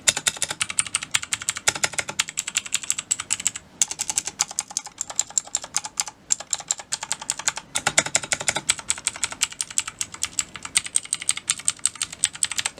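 Fast, continuous typing on a Ducky One 2 Mini or RK61 mechanical keyboard, close and crisp, with dense rapid key clacks and a few short pauses between bursts.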